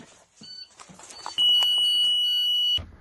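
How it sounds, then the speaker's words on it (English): A school bus child-check alarm sounds a steady, piercing electronic tone for over a second at close range, then cuts off abruptly amid faint background noise. "He will then turn off his engine. An alarm will sound."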